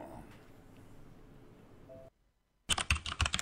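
Keyboard keys clack in a quick burst of crisp typing in a radio advertisement, following a stretch of quiet background sound and a short silence.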